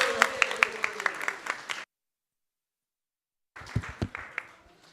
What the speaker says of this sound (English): So let's give a big round of applause for all of our cooks.